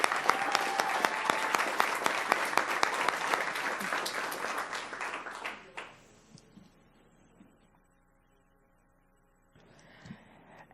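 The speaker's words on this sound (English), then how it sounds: "Let's give him a round of applause." An audience at a school board meeting claps for an award recipient. Dense, lively applause runs for about six seconds, then thins to a few scattered claps and near silence before a faint rustle returns.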